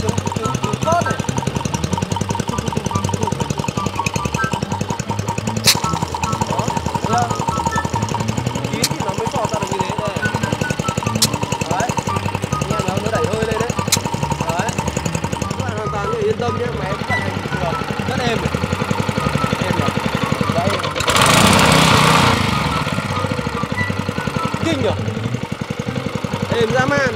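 A Honda G100 engine on a compact handheld pesticide sprayer runs steadily close to the microphone, a fast even putter with a brief louder hiss near the end, and someone talks over it.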